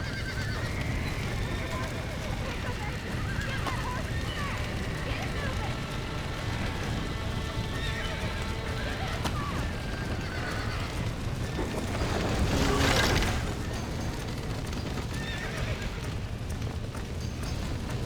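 Horses whinny and hooves clatter amid a dense, busy Red Dead Redemption game soundscape, with a louder burst of noise partway through.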